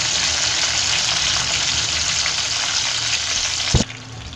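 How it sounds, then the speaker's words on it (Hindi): Green chillies sizzle steadily in a pan of hot oil over low flame, a continuous close frying hiss with faint stirring scrapes, ending in one sharp knock near the end before the sizzle quietens. "हरी मिर्च भी हम लो फ्लेम पे ही भुनाई करेंगे, इस तरह से घुमा घुमा कर हम इनकी भुनाई कर लेंगे"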